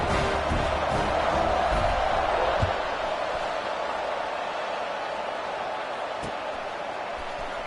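Stadium crowd noise from a college football video game, Minnesota at Memphis, a steady loud roar of cheering fans during a kickoff, continuous and broad, easing slightly after a brief thump midway.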